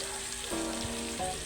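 Vegetables sautéing in a pan for a Filipino ginisang gulay give a steady sizzle, with a brief scrape of stirring partway through, close and alone.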